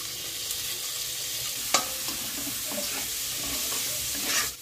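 Chopped spring onions sizzle and spit steadily in a wok with hot oil, a dense continuous frying hiss with a few sharp scraping clicks of a spatula stirring; no voices.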